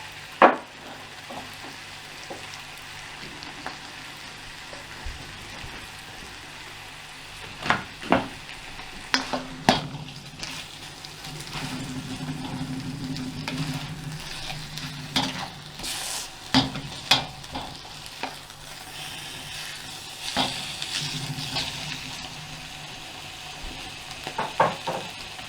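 Chicken pieces seasoned with salt and pepper frying in a pan, a constant moderate sizzle broken by frequent clinks and scrapes of a utensil turning the meat.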